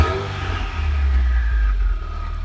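A 2020 Subaru WRX's aftermarket exhaust rumbles deep and loud as the engine revs briefly, a short throaty burst heard up close.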